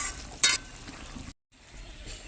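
Okra and potato curry in mustard paste simmers with a soft, continuous sizzle, broken by one sharp scraping stir near the start and a brief dead silence before the bubbling resumes.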